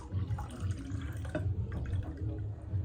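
Basil drink, reyhan suyu, is poured into a glass at a restaurant table in Masallı, Azerbaijan, making a close, steady trickle and splashing with some background clatter.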